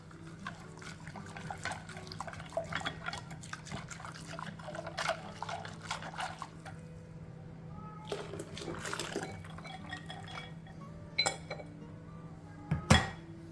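Custard mixture trickles back into a Pyrex jug with soft liquid splashes and occasional glassy clinks, scattered bursts over a low steady hum, ending with a sharper knock.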